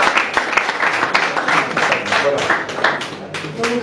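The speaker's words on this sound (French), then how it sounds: "Applaudissez pour Papi Mboma" An audience at a French-speaking gathering applauds in a dense, steady burst of clapping that holds through the whole stretch, with voices mixed into the noise.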